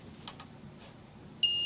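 A single loud, steady electronic beep from an ultrasonic security circuit rings out near the end, preceded by a couple of faint clicks over a quiet background hum.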